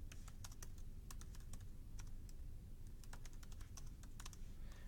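Keys clatter on a US-layout computer keyboard in quick, irregular bursts, light and fairly faint over a low steady hum.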